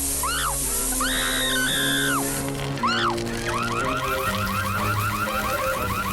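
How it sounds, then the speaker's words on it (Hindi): An electronic alarm blares continuously in an animated scene, with rising and falling warbling tones and rapid repeating beeps over a steady background hum. "फायर अलार्म ने अपना कमाल दिखा दिया।"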